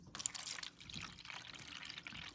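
Water from a cup pours and trickles steadily into a seedling tray for bottom watering, a soft continuous splashing and dribbling heard up close and fairly quiet.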